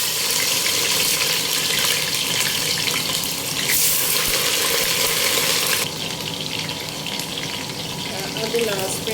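Onions fry in hot vegetable oil with a loud, continuous hissing sizzle that steadies and eases slightly partway through, close and without talk.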